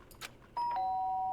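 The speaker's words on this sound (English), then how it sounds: "Ding dong." A doorbell in a video game rings, its electronic ding-dong tone sounding loud and clear and then holding as a steady chime after a couple of soft preceding clicks.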